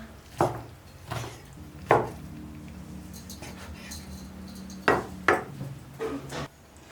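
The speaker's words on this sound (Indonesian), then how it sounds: "potong-potong nanti kita akan chopper lebih buat memudahkan saja" Kitchen knife chopping on a board while preparing filling for a frozen food dough, with a handful of sharp, irregular chops spread across the stretch and quiet gaps between.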